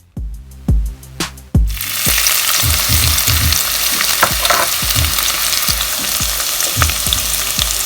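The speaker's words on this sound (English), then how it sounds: "So we're adding the onions first." Onions drop into a hot pan for yellow rice with pigeon peas, bursting into a loud, close sizzle after a few opening knocks, with spoon scrapes and taps rhythmically breaking the steady frying hiss.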